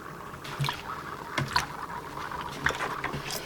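Air bubbles escape from a leaking bicycle inner tube held under soapy water, making soft, sparse trickling and bubbling blips that are faint and close.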